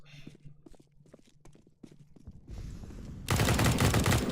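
Desert Eagle pistols fire in a competitive Counter-Strike match, a string of sharp gunshots and footstep-like clatter that gives way to a loud dense burst of noise near the end.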